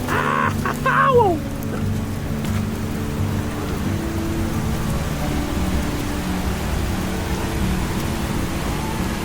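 Heavy rain pours steadily at Vintgar gorge in Slovenia, a dense even hiss with a low rumble beneath; a brief voice cries out near the start before the downpour continues alone.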